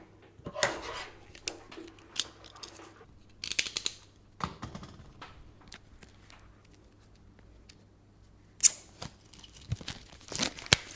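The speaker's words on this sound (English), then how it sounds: "I should probably unwrap the plastic because this is taking forever" Plastic wrap being peeled and torn off a small e-reader box, heard as intermittent crinkling and tearing bursts close by, separated by quieter pauses, with no talking.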